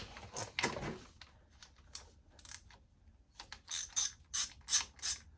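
A 5mm Allen key on a ratchet extension works loose the engine case bolts on a Yamaha Tracer 7, giving bursts of close ratchet clicking and metallic mechanism noise in short, separate runs with no talking.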